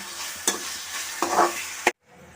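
Green chilies, curry leaves and turmeric powder stirred in a hot pan for an egg curry, giving a steady soft sizzle broken by a few louder spoon scrapes, then cutting to near silence at the end.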